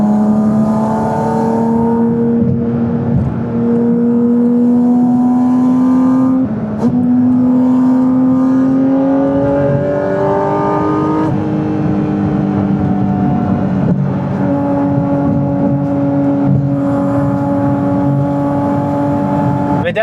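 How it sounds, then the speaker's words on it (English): A Porsche GT4 RS engine drones loudly and steadily, its pitch climbing through PDK gear shifts with brief dips at each shift, sustained throughout. "the sound of this car is top tier"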